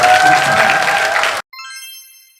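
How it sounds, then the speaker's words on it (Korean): Audience applause at a Korean stage talk event with actor Jo In-sung and writer Kang Full, a loud dense burst of clapping that cuts off abruptly, followed by a short bright chime-like tinkling jingle that fades out. "박수 한 번만"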